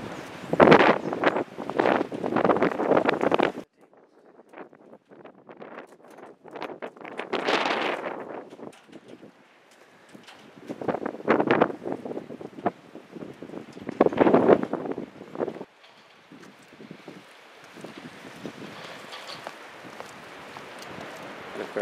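Strong storm wind roaring across the Seaside Heights boardwalk, buffeting the microphone in heavy irregular gusts that rise and fall, with loose debris rattling about.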